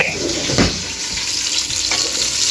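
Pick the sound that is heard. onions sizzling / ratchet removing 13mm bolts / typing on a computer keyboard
onions sizzling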